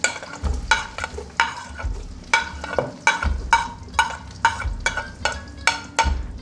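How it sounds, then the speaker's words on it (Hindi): Chopped onion frying in oil over medium heat, stirred in a steady rhythm: regular scraping strokes about every half second over a continuous close sizzle, with no voices. "प्याज को करते हैं फ्राई मीडियम आंच पे।"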